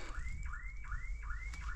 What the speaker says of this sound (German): Alarmanlage von dem Auto da unten.